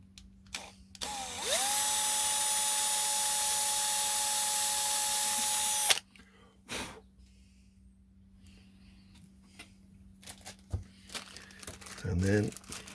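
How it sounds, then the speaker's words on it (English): A small power drill bores holes into a Fender Hot Rod Deluxe amplifier circuit board, whining loud and steady for several seconds before stopping. Faint handling clicks and scattered noises follow. "I'm going to start drilling some holes now close to these remaining wires"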